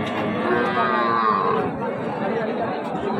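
Young heifer calves and cattle crowd the Raniganj livestock market, with occasional moos rising over a continuous din of crowd chatter and nearby voices.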